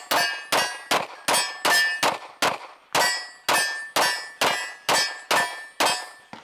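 A Sig Sauer P320 handgun empties a full magazine, with about fourteen sharp reports at an even, brisk pace, each followed by a bright metallic ringing tail that decays before the next shot.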